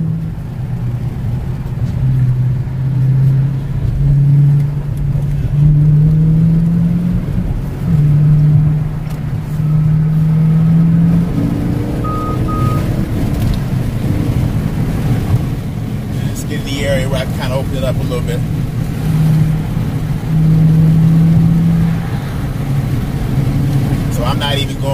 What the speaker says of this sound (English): Got the windows cracked a little bit on both sides, so you can kind of hear the engine.